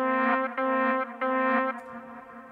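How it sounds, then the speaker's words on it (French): A sustained synth chord with a touch of reverb and delay, played in three short repeated stabs before a lingering tail, close and alone with no voices. "On va mettre un petit peu moins de reverb."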